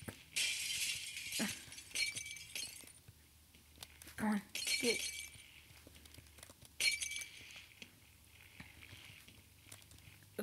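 Glass shatters repeatedly in the physics game Happy Wheels, with three bright crashing bursts spread across the stretch, each followed by tinkling shards, while someone talks excitedly over the gameplay.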